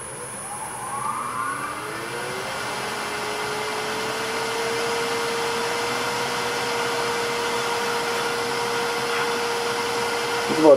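Wood lathe spinning during turning at about 1,000 RPM, a loud steady motor whine that rises in pitch early on and then holds an even drone, with a faint high tone above and no talking.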